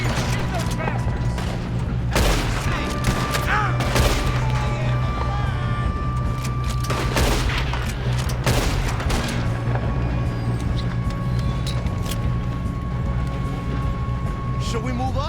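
Gunfire in Red Dead Redemption 2, with loud, dense volleys of shots and booms in a chaotic firefight, repeated bursts standing out above a constant roar of game noise.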